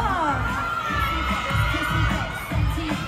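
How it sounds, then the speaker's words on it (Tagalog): A loud crowd cheers and shouts continuously, with high-pitched screams rising above a thumping beat in the background. "grabe ang hiyawan dito."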